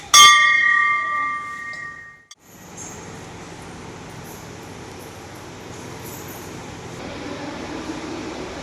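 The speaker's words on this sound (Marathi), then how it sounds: "घंटा." A temple bell is struck once at the very start and rings for about two seconds. A quiet, even ambience follows with no voices.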